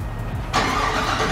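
A Cadillac engine cranks and catches, then settles into a loud, steady idle close by.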